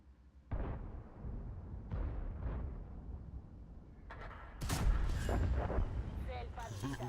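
Tank shells fire and strike a target in a tank video game, heard as several booming cannon blasts with rumbling decay, the last one louder and fuller, mixed with game sounds and faint chatter.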